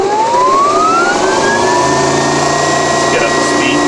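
An AC motor driven by a drive spins up toward generating speed, its tonal whine rising steadily in pitch and then holding, loud and close, with a lower hum beneath.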